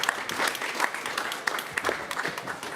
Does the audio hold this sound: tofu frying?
no